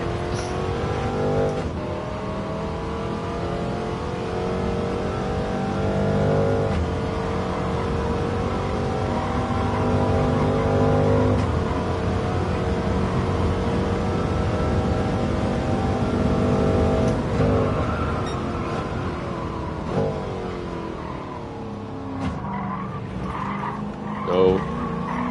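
A De Tomaso race car in Gran Turismo 7 laps Monza, its engine droning loudly with a steady harmonic whine, dropping and rising through braking and shifts, with tire squeal and skidding near the end.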